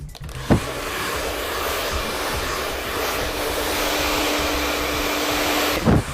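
Hair dryer blowing steadily for about six seconds while hair is rolled up on a round brush during a volume blow-dry, a continuous close whoosh with a short clunk or handling noise at the start and end.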